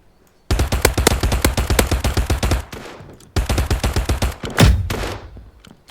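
Close, rapid bursts of automatic gunfire in the Mini Royale shooter game, two long rattling volleys separated by a brief pause, then a single heavier shot with a ringing tail, loud and with no talk over it.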